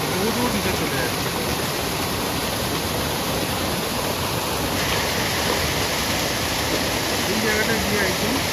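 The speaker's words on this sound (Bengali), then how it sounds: "জলটা এখান থেকে এসে এইভাবে নিচে চলে যাচ্ছে, বহু দূর নিচে চলে যাচ্ছে।" Water flows over rocks and drops far down a stream at Belpahari, making a loud, steady rushing roar that fills the whole stretch without letup.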